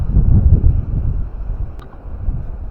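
Cold wind gusts across an open seaside spot near a volcanic coastline with a lighthouse, a loud, steady low buffeting on the microphone that swells and eases, with no talking.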